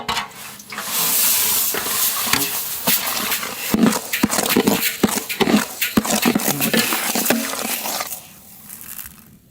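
Moong dal roasts in cow ghee in a pan, stirred with a steady run of close scraping, rattling and sizzling clatter that continues unevenly for several seconds before fading out.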